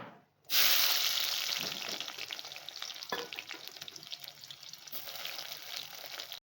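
Chopped onion drops into hot oil with cardamom, cloves and cinnamon, setting off a sudden loud sizzle that settles into steady frying, with a few stirring scrapes and a clack partway through.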